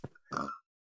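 Pigs grunt in a farming video game, with a short low grunt followed by a longer, louder nasal grunt. Both sound close and clear, with no talk over them.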